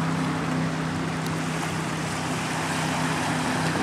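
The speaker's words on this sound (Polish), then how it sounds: "A tutaj jaka fala się zrobiła. Patrzcie, co nam narobiła ta motoróweczka. Ten wodolot właściwie." A hydrofoil boat passes on the Rhine and its wake slaps ashore, heard as a constant loud wash of water with a low steady engine hum throughout.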